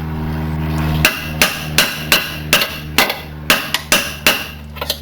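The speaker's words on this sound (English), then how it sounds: "I'm just giving the wishbone a tap." A hammer taps a Peugeot 206 suspension wishbone into place with about a dozen sharp metallic strikes at a steady, slightly irregular pace, close and clear over a faint low hum.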